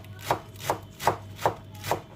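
A knife chops through spinach on a board in five crisp, evenly spaced strokes, each a sharp close thud, with no talking.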